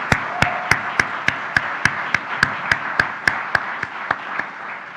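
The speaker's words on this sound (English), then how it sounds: "Can we get a round of applause for this incredible team of volunteers?" An annual meeting audience claps for a team of volunteers, a sparse, steady run of separate claps in an even rhythm, close and fairly light, as if from only a few hands.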